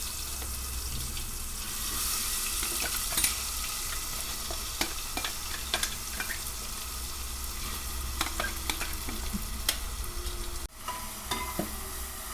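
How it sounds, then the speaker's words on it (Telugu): Masala paste frying in hot oil for a fish curry with curry leaves, a steady close sizzle throughout with occasional scrapes and taps of stirring, and no talking. "బాగా ఫ్రై చేసుకోండి."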